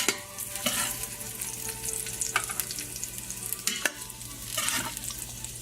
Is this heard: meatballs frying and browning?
yes